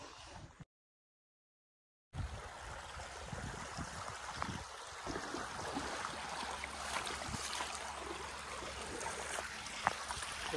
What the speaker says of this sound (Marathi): देखो गाव की नदी हमारी.